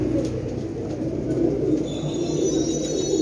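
Teddy pigeons coo softly in a low, steady, continuous murmur, close by in a pigeon-selling setting.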